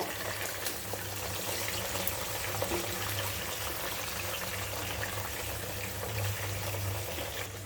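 Chicken pieces fry in oil in a pan over medium heat, giving a steady, even sizzle that runs unbroken at moderate loudness with no voices over it.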